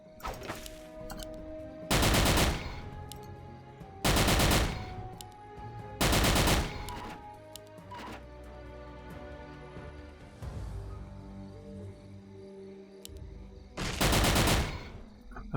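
Assault rifle fire in the Carnivores World video game comes in four loud, close bursts spaced a couple of seconds apart, with quieter game ambience and clicks in the gaps.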